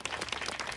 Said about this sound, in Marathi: एकदा सर्व ग्रामस्थांसाठी जोरदार टाळ्या झाल्या पाहिजे